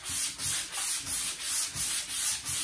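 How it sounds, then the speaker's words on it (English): Hand sanding across a chalk-painted wooden tabletop, rhythmic back-and-forth strokes, about seven even passes, close and steady with no talking. "I'm gonna go ahead and sand across the top,"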